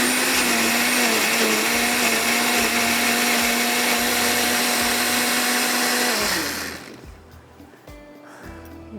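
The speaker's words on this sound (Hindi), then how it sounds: "सारी चीज़ों को एक साथ डालेंगे और इसको पीस लेंगे।" A blender grinds chopped ingredients for a chicken roast tarka, running as a loud, constant motor whine with a rhythmic churning thump, then spinning down near the end as the motor stops.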